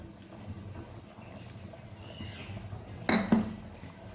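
A lid is set down over a pan of hilsa fish cooking in raw mustard oil with slit green chillies, giving a sharp metallic clink and rattle near the end against a quiet kitchen background.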